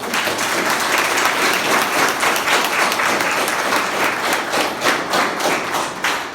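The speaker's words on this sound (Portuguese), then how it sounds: "Merece um aplauso esse tipo de trabalho." A crowd at a community gathering claps steadily and loudly throughout, a dense unbroken wash of applause with no voices over it.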